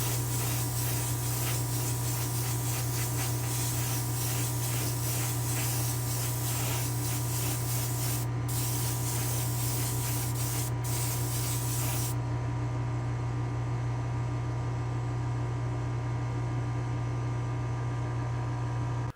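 Clear coat sprays steadily onto a Hot Wheels Super Van as a continuous hiss for about twelve seconds, then a lower steady hum continues alone.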